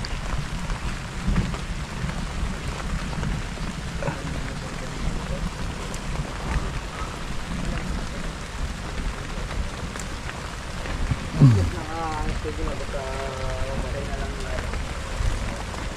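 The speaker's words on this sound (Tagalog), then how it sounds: "kahit umuulan" Steady rain falls outdoors in a rural Filipino farm setting, a constant close hiss of drops that runs throughout, with people talking intermittently over it.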